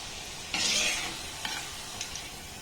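Flower pitha pieces going into hot oil, each setting off a bright sizzling burst, one strong and then two smaller ones, over a quiet background hiss of frying.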